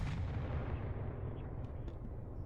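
Enemy weapon fire from an attacking ship in the space combat game SpaceBourne 2 bursts out as a heavy, booming blast with a rumbling tail, followed by faint high zips of shots passing by.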